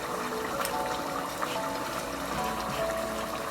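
A cornstarch and water mixture trickles and pours into a pot of Trini-style curry chicken, a steady soft liquid stream with faint bubbling over continuous kitchen background noise.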